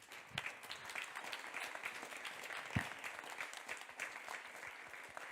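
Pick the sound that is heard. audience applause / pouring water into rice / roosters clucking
audience applause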